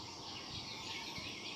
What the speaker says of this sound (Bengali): সাথে নানা রকম পাখির ডাক